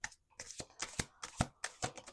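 A deck of tarot cards is shuffled by hand in quick riffles, a string of close crisp fluttering bursts with short pauses between them.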